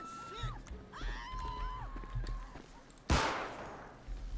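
Gunfire in GTA 5: a single sharp, loud shot cracks out near the end, after sirens and engine noise during a police boarding of a suspect armed with a pistol.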